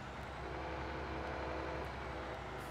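A train passes in the Farming Simulator 19 video game, a steady, loud, continuous rumble and rolling drone that holds evenly throughout with no voices over it.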